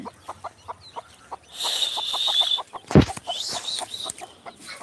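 A hen clucks in short, regular bursts, with higher peeping chicks joining in; one sharp, loud thump or wing flap cuts through near the middle.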